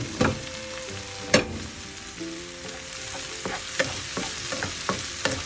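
Ivy gourd fries in an open pan with a continuous close sizzle, punctuated by a few sharp spatula clacks and scraping stirs.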